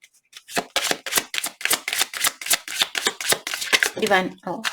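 Tarot cards being shuffled by hand, a rapid series of crisp riffling bursts in quick rhythm, close and clear, with a voice speaking over the shuffling.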